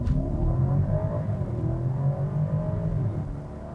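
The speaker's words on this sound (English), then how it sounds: "listen to that engine" A 2020 BMW X7 SUV engine rumbles and revs steadily up, a deep sustained growl rising in pitch, close and loud with no voices.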